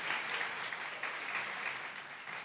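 A church congregation applauds during a sermon on prosperity, a continuous spread of many clapping hands, fairly soft and distant, steady with small swells.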